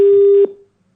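A telephone call cut off mid-conversation leaves a steady electronic busy tone that sounds loudly for under half a second, then stops and fades into silence.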